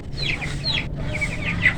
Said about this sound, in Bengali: আজকে আমাদের 15 দিনের মুরগি।